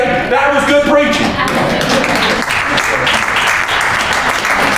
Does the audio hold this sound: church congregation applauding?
yes